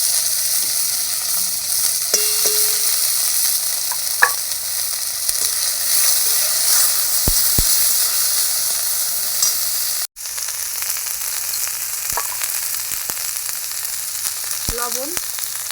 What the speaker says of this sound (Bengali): জিরে লঙ্কা ফোড়ন দেবো। মশলা দিয়ে দেবো, বাটা মশলাটা।